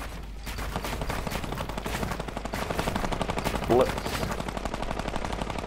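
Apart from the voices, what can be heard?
gunfire in the video game Fortnite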